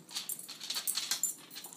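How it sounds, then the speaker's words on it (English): Hound dogs whimper and whine close by in a run of short, high, breathy cries with brief pauses, fairly faint and with no talking. "Hound dogs."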